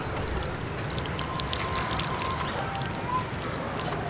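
Water pours steadily onto soil sown with coriander seeds, a close, continuous splashing trickle with no talking over it.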